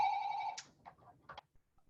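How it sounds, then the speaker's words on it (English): A mobile phone rings nearby during a campus panel discussion, one bright electronic ringtone tone lasting about half a second, then a few faint clicks and small sounds before quiet. "Oh, my phone's ringing now, Butterfly."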